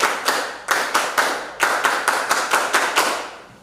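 Students in a classroom clapping their hands together in unison, about a dozen crisp, evenly spaced claps with a short gap after the first few.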